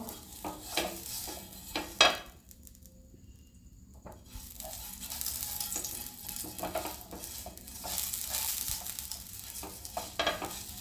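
Oil is spread across a hot tawa for masala dosa, with an onion half used as the brush, giving soft scraping strokes and a light sizzle, with a louder clatter near the start and a quieter pause before steady rubbing resumes.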